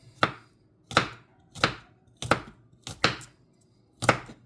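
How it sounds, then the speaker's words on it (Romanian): A knife chops garlic on a board in six crisp, evenly spaced strikes with short gaps between them, close and clear with no talk. "Mai tocăm și usturoiul."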